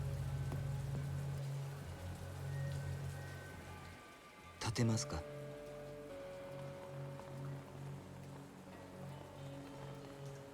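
Rain patters steadily in a Yakuza 0 street scene, a continuous wash of drops under music and in-game dialogue, with a brief louder clattering burst midway.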